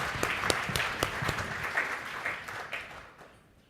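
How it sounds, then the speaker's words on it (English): An audience at a panel on blockchain and cryptocurrency investment gives a round of applause, distinct claps at moderate volume that thin out and fade to quiet near the end. "Give them a round of applause."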